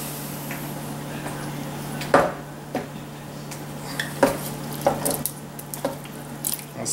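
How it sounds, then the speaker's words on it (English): A spoon scrapes and knocks against a pot of sauce piquante as ingredients are stirred in, giving several sharp clinks and soft wet squishes over a steady low hum. "I'm gonna stir that in"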